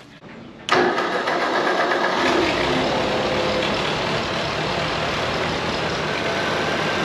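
A heavy diesel tractor engine rumbles steadily and loudly after a sudden start during hay hauling, a continuous close-up drone with no voices.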